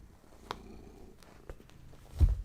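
A cat purrs close by in a low, soft rumble, with a few sharp clicks and rustles over it and a louder swell near the end. No one speaks.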